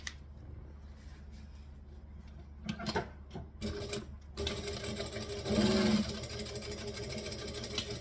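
Sewing machine back stitching fabric, its motor whirring in short bursts and then running steadily and louder, close by with no talking.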